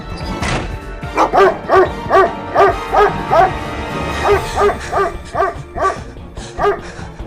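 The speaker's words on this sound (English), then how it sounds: "I told you 100 times not to bark so wildly for no reason" A dog barks in a horror video game, a string of about a dozen sharp, evenly spaced barks in quick succession, close and loud, with no talking.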